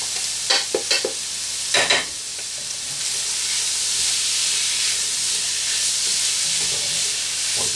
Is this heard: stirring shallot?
yes